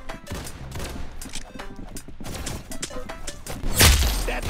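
Shotgun fire in the Roblox-style Arsenal shooter game comes as a run of loud, rapid blasts and clatter, with a heavy boom near the end, amid busy game sound.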